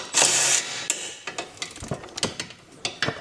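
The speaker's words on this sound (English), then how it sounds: "I shall take these bolts out while you think about it" Bolts are removed from a Mini R56 with a ratchet, producing a series of sharp, close metallic clicks and ratcheting ticks in an uneven rhythm after an initial burst of noise.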